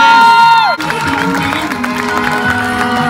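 Loud crowd applause and cheering at a quinceañera party, a dense continuous wash of clapping and shouts that surges in after a short musical note and carries on over background music.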